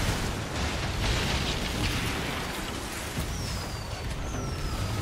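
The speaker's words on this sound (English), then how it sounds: "Hey, look at my pirate fireworks." Pirate-themed fireworks in a video game: a dense, continuous roar of crackling bursts and booms lasting several seconds, with faint whistling streaks rising through it, loud and without talk.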